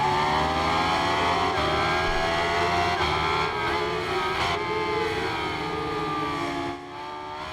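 A Yamaha FZ 1000cc motorcycle engine in the Ride 5 racing game revs steadily at high pitch as the rider comes back onto the power, the tone rising and falling slightly before dropping off near the end.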